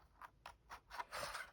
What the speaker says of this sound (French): je prends les ciseaux et je fais un petit biseau sur le côté